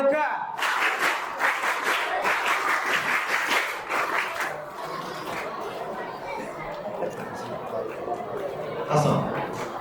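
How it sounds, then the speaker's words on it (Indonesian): An audience at an Indonesian community gathering claps in unison, a crisp rhythmic burst that gives way to looser scattered applause and chatter, with voices talking over the crowd near the end. "Oke, tepuk tangan dulu semuanya."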